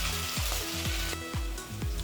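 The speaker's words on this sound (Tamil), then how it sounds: "இதை ஒன்றா எடுத்து போட்டு ஃப்ரை பண்ணிக்கலாம்" Marinated cauliflower pieces frying in hot oil, a loud bright continuous sizzle with rhythmic low clunks repeating about every half second.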